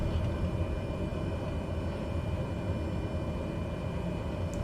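Cessna 208B Grand Caravan turboprop engine at idle with the throttle pulled back in MSFS 2020, a steady low droning rumble holding constant and fairly loud throughout, with no talking.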